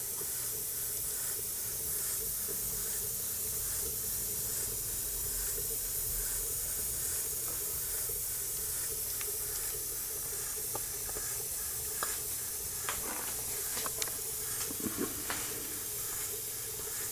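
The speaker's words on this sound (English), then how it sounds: "Pretty efficient, tight, good running steamer." A large steam engine running, giving off a steady loud hiss of escaping steam with a low mechanical rumble underneath and a few faint clicks and puffs near the end.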